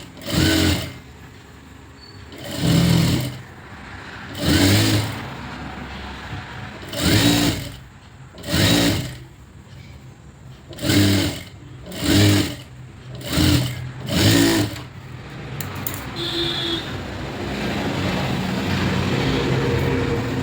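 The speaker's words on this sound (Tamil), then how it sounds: "அழகாக இந்த லைனுக்கு பக்கத்துலேயே எவ்வளோ ஸ்பேஸ் விட்டு தரணும் அதே மாதிரி லைட்டாக விட்டுட்டு ஸ்டிச் போட்டுட்டு வாங்க" Sewing machine stitching a blouse seam, running in about nine short bursts of a second or so each, evenly spaced, with a quieter steady hum between them and at the end; no talking.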